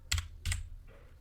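Two quick clusters of keystrokes on a computer keyboard, close and faint, followed by a short quiet pause.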